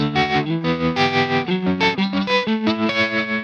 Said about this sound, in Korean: 트레몰로가 걸려있는 소리네요